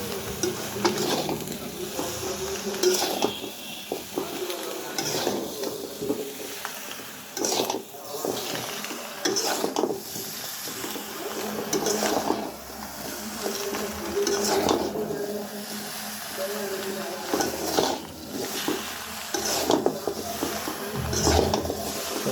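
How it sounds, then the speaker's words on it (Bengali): Chopped bottle gourd with salt being stirred in a pan with a metal utensil, steady scraping and clinking against the pan over a soft sizzle, continuing in repeated strokes, with a voice talking faintly at times. "একটু লাড়া দিয়ে মিক্স করে নেব যাতে লবণটা সব জায়গায় তাড়াতাড়ি মিশে যায়"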